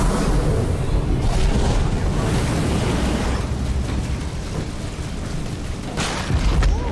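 A bloater bomb goes off in a video game, a loud, sustained rumbling blast with bursts of noise that swell near the start and again toward the end.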